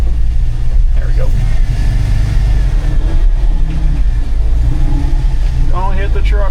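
A 1980 Dodge W200 Sno-Commander snowplow truck's engine runs loud and close with a steady low rumble and a rev near the end, while someone talks over it.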